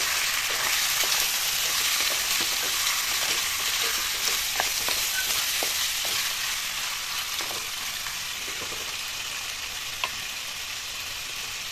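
Chicken pieces frying in a pan for a chicken curry with okra, a constant close sizzle broken by faint scraping and stirring taps.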